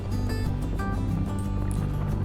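Turbulent, raging water of the Shyok river in Ladakh, a steady loud rushing roar filling the whole stretch without a break, heavy in low rumble with broadband spray on top.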